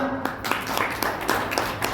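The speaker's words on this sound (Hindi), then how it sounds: "तालियां" An audience in a Bhagavad Gita class claps briefly, a scattered patter of hands close by with steady texture and no voices over it.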